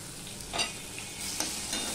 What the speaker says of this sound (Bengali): দিয়ে সম্পূর্ণ মিশিয়ে নিয়ে আমি 2 মিনিটের মতন কষিয়ে নেব।